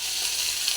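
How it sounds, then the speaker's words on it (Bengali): Okra and potato pieces fry in a pan with a brief, steady sizzle, close and without any talking. "ঢ্যাঁড়স আলু ভাজা বসিয়ে দিয়েছি।"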